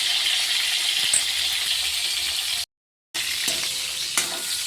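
Salted pointed gourd (potol) fries in oil in a kadai with a dense, even hiss. A brief cut to silence breaks it midway, and a light clink comes later.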